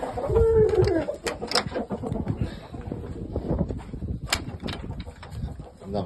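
Young shamo gamecock stags cluck and call in their pens, the bird sounds coming in scattered bursts at moderate distance with someone talking over them.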